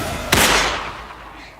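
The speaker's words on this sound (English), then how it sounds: "I heard a gunshot" One sharp gunshot bursts out loudly and then decays into a lingering rumbling echo.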